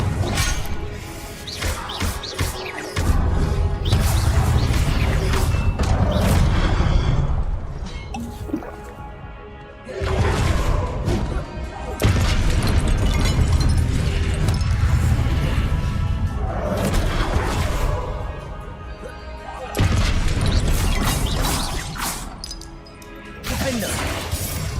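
Loud crashing blasts and shattering impacts from Confringo explosion spells in Hogwarts Legacy come in long dense waves separated by brief lulls, with a voice faintly present.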